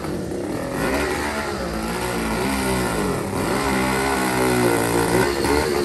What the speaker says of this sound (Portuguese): O motor tá frio, ó.